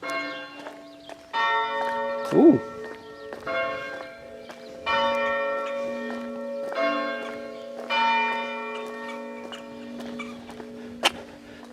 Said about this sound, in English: is the bell of St Bartholomew's Church, which is telling us that it's 6:15 on Sunday morning